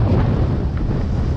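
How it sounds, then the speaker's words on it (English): Strong 40 mph wind gusts buffet a camping spot on the Rhinns of Galloway during a storm, a loud, continuous low roar of rushing air battering the microphone. "We've got winds gusting at 40 mile an hour."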